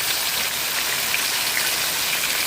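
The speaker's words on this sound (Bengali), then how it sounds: "আর বাইরে হচ্ছে খুব বৃষ্টি এখন।" Heavy rain pouring outside a village house during a storm, a dense, constant wash of droplets hitting surfaces, loud and even with no voices.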